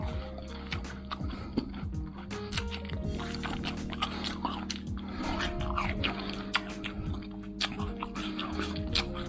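Someone bites and chews a ripe Suimi guava, a white-fleshed Taiwanese variety, producing close, continuous wet crunching and squishing with repeated bite clicks throughout.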